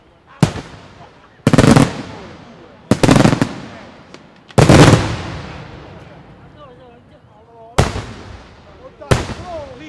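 Night fireworks go off at a festival in Somma Vesuviana, with several loud, sharp booms spaced a second or two apart, each followed by a crackling, echoing tail.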